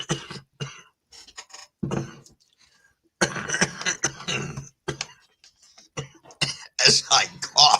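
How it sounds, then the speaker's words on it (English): Someone coughs repeatedly in harsh bursts, close up, with short pauses between fits. "As I cough now."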